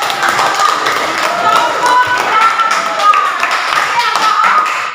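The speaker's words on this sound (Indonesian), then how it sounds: "Kita beri tepuk tangan." A high school class claps together in a classroom, a continuous patter of hands with light taps, moderately loud with some voices underneath.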